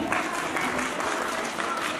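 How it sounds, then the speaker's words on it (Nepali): An audience claps loudly and continuously, a thick even wash of many hands applauding at once, as a performer prepares to do impressions on stage. "तसर्थ सम्पूर्णले एकचोटि जोरदार ताली बजाइदिनु होला।"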